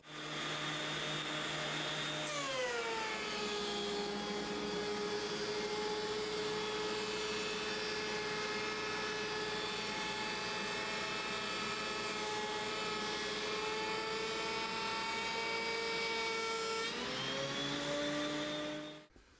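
A FindBuyTool FB131H helical wood planer spins up and roars steadily through a pass on poplar, a loud, even whine that holds for about fifteen seconds before winding down.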